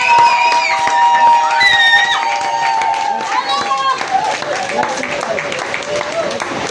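A church congregation at a revival service claps along amid singing and sustained music, the dense patter of many hands steady and fairly loud for several seconds while voices carry a melody over it.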